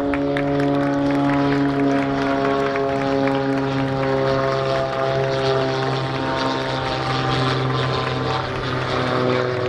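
A propeller aircraft makes a low-speed pass trailing smoke at an air show at Salon de Provence, its steady droning engine loud and continuous throughout with a strong harmonic hum.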